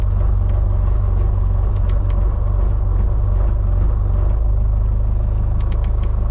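Sailboat engine idling with a deep steady rumble that builds slightly as throttle is given, loud and close with a throbbing low rhythm throughout.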